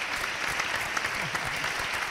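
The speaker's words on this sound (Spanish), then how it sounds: "vale, un aplauso para ellos, sí." Audience applause at an interview event, a brief steady burst of clapping heard at moderate distance.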